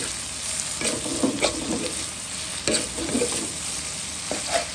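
Slices of bitter gourd fry in a pan with a loud, continuous sizzle. Several scraping stirs and soft thuds come at irregular intervals, and no one talks.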